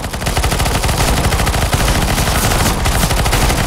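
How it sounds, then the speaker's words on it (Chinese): A firecracker cannon weapon fires nonstop in a haunted co-op mission map in CS:GO, a dense, loud, continuous rattle of sharp bursts that never lets up. "哇，那是爆竹炮，会有火的"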